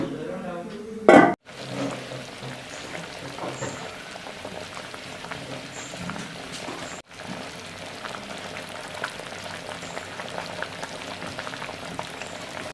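A pot of sardine and ash gourd curry bubbles at a steady boil, a dense continuous simmering hiss with a brief loud clatter near the start and a short drop out partway through.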